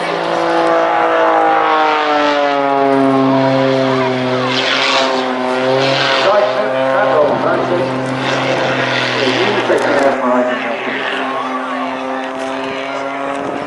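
Aerobatic aircraft engine droning loudly and steadily through rolls, with strong harmonic pitch sweeping up and down as power changes, near and continuous with no pauses.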